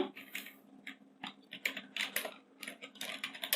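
Rapid keystrokes on a computer keyboard while writing Java code, a quick irregular run of close, crisp taps with short pauses, and no voices.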